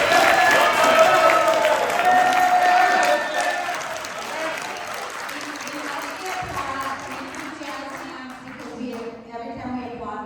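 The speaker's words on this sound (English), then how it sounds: "Every time we applaud, we take time away from the public speaking." Audience applause at a community meeting on the NYC DOT Canal Street redesign in a school auditorium: a burst of crowd clapping that dies down after a few seconds, followed by a voice speaking over a murmuring room.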